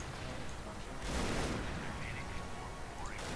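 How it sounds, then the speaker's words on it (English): Explosions and flak bursts rumble in a Star Wars space-combat video game, a continuous dense barrage with a heavier swell in the middle, layered with laser-like whistles and sweeping tones. "The explosions seem to be slightly off."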